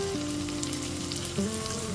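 Tomato paste frying with onion, ginger and garlic for an echor chingri curry, a close, steady sizzle with a small spatter near the end, no talking.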